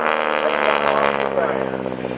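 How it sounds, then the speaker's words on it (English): An air-cooled radial engine on a vintage aircraft rumbles loud and steady at an air show, with a dense low throb running throughout and a slight change in tone partway through. "The rumble of that engine that you hear is a round, or radio engine as they're called, and they were air-cooled"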